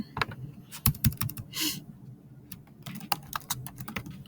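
Keys clatter on a computer keyboard as a map title is typed, a quick, uneven run of close clicks with a short pause in the middle.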